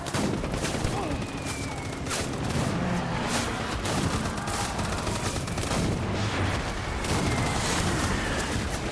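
Dense, continuous machine gun fire and explosions from the video game Death Stranding, loud and sustained with rapid overlapping bursts, booms and a player's voice shouting over the battle.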